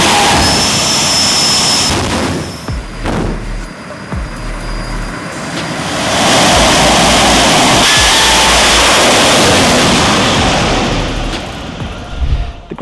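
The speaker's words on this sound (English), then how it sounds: "once you light the afterburner, you're off" Road-legal jet car with afterburner accelerating hard at Santa Pod drag strip, a loud roaring blast with sharp booming pops early on, swelling into a sustained thunderous rumble that slowly fades.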